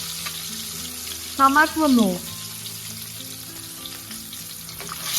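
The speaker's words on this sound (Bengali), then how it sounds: "দিয়ে এবার ভালো করে খুন্তির সাহায্যে নেড়ে দেবো" Spices, including turmeric and chili powder, fry in hot oil for a Bengali egg curry as a spatula stirs them, with a continuous loud sizzle and a brief spoken word over it.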